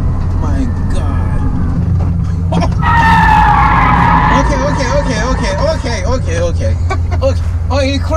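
A Rimac Nevera electric hypercar brakes hard to a stop, its tires squealing in a loud sustained skid lasting a few seconds, while excited passengers talk and exclaim over it.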